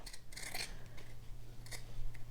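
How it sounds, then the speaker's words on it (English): Scissors snip and rasp through fabric seam allowance while sewing a bodice, a few short close cutting bursts with a steady low hum underneath. "So I'm just turning this as I go, cutting, trimming."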